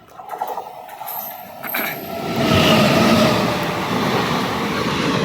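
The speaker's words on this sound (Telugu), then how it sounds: "పార్సిల్ వ్యాన్ అండి పార్సిల్ వ్యాన్ ఫాస్ట్గా వెళ్తుంది" A fast parcel van train rushes past close by on an Indian railway line, its rumble swelling into a loud, steady roar of rolling wheels that carries on to the end.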